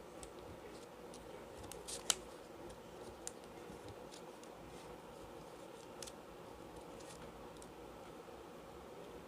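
Scissors cut card stock for a handmade Christmas greeting card, producing a few faint, sparse snips over a soft steady background hiss, with no talking.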